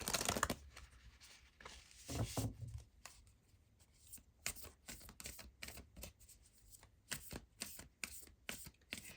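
Tarot cards handled while drawing a spell card from a Halloween tarot deck, heard as close, dry riffling, shuffling and snapping bursts in quick uneven runs with short pauses, no voices.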